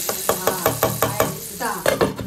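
Hot ghee tempering for hotel-style dal tadka, with a run of sharp, evenly spaced clinks and knocks of a spoon against a pot, close and fairly loud, followed by a brief sizzle as the tadka meets the cooked dal.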